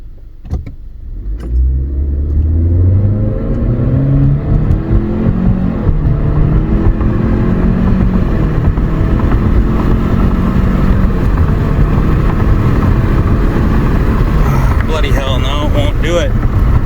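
A 2020 Chevrolet Malibu with a 1.5L turbo engine suffering random misfires accelerates hard under boost, its engine note rising steadily and loudly from a low start and staying strong to the end, with a faint voice near the close.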